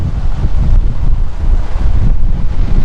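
A strong gust of wind in a Boise, Idaho dust storm buffets the microphone, producing loud, sustained low roaring wind noise that surges and dips throughout, with no voices.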